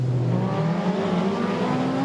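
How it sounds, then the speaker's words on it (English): A junior sedan race car engine drones steadily at close range at Darwin Speedway, its pitch holding and wavering slightly as it limps along the track. "there's Jack Dalton in car number 21, limping down the track"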